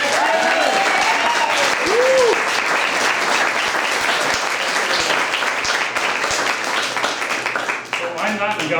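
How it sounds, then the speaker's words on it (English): Audience at a community meeting on the New York Equal Rights Amendment breaking into sustained, loud applause, a dense wash of many hands clapping close by for the whole stretch, with voices faintly mixed in. "give a warm and rousing round of applause for somebody who's one of the great people in government"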